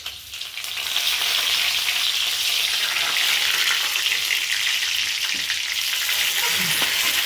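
Curry leaves and green and red chilies with cumin seeds frying in oil, a loud, steady crackling sizzle that swells after the first second and holds close and continuous, with faint stirring knocks near the end.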